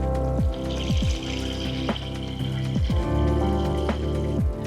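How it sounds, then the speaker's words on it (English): A Carysil kitchen faucet runs in waterfall mode from a wide spout, a steady pouring stream heard alone, while a musical backing with descending tones plays over the water. "the waterfall mode."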